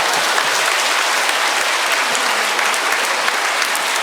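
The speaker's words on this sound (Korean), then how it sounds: "이때 좀 박수 좀 쳐주셔야 되는데요." An audience at a Jesuit priest's first Mass breaks into steady, loud applause, an even, continuous rush of many hands clapping with no talking over it.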